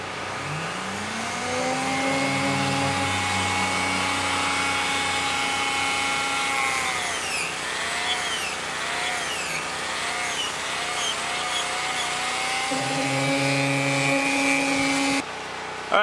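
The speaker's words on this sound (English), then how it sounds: "I'm gonna use the Dremel bit again to make this little hole." A Dremel rotary tool drilling a small hole in a chainsaw-carved wooden hawk or eagle, a loud, continuous high whine that rises at the start, dips and swells, then cuts off near the end, heard alone.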